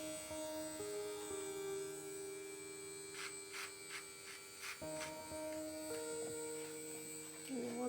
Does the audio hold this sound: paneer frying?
no